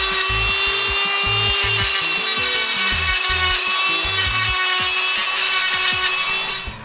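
Dremel rotary tool rounding the edges of small wooden intarsia pieces for bookends, a loud high whine under choppy grinding bursts as the bit bites into the wood, close up.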